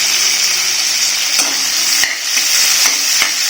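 Tomatoes and a few mint leaves sauté in oil for a plain parotta salna, giving a loud, steady close sizzle with occasional stirring clicks of a spoon against the pan.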